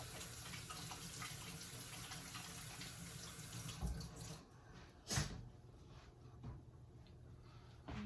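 Water runs steadily from a kitchen tap while hands are washed, a continuous close splashing rush that tapers off midway, followed by a few faint clatters and a drip.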